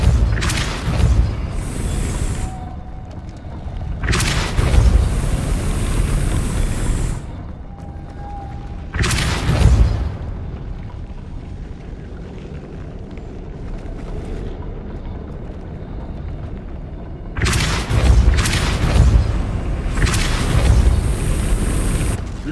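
Depulso force-push spell in Hogwarts Legacy, five or so heavy booming blasts spaced several seconds apart, loud and close, with quieter rumbling between them.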